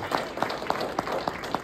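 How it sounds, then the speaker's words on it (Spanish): Church congregation clapping in a steady rhythmic beat, about six evenly spaced claps in under two seconds, moderately loud and fairly close with a faint room wash behind. "Denle un aplauso al Señor, hermanos"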